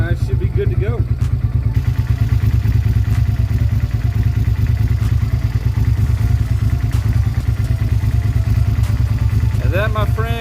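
A motorcycle engine runs at idle right after a fresh oil change, a loud, close, rapid rhythmic thumping that stays steady throughout, with a little mechanical clatter and a voice speaking briefly over it.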